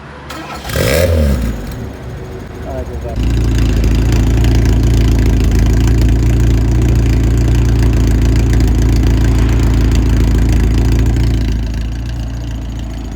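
A Tofaş Kartal S car with 52,000 km is cranked and started: a short burst of mechanical noise, a pause, then the engine catches and settles into a loud, steady idle that continues close by to the end, fading slightly at the close.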